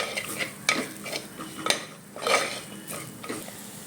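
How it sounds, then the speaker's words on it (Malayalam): Masala powders for a crab roast are stirred in a pan, a spoon scraping and clinking against the metal in several separate strokes over a faint sizzle, close and alone with no voices. "അതിനുശേഷം ഈ പൊടികൾ നന്നായി വഴണ്ട് വരുന്നത് വരെ ഒന്ന് ഇളക്കി കൊടുക്കാം."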